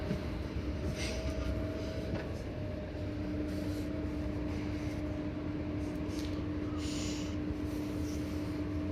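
A Southeastern train runs between Ramsgate and St Pancras International. Heard from inside the carriage, a steady low rumble carries a constant motor whine, with faint clatters and rattles layered over it and no voices.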